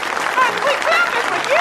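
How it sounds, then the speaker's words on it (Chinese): Applause greets a woman entering a church service in the film The Help, a broad wash of clapping heard under a narrator's voice, with faint higher tones sweeping through the background. "一进门便是雷鸣的掌声。"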